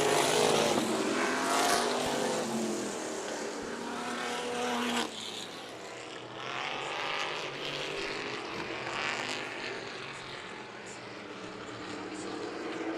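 Vintage sprint cars race hard on Meridian Speedway during the Diamond Cup, their engines roaring loud and continuous as several machines pass, with the pitch swelling and dropping as the pack goes by.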